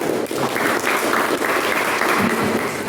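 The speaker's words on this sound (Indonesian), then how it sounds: "Jadi 100 untuk kelompok 2. Tepuk tangan." A classroom of pupils claps together for a group after its presentation, a steady, dense burst of applause that fills the room at close range and stays even from start to finish.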